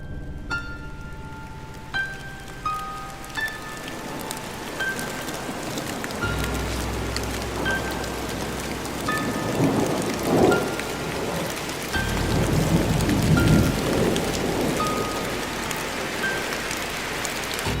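Heavy rain pours steadily at night with rolling thunder, loud and continuous, while sharp tonal tones sound briefly at the start.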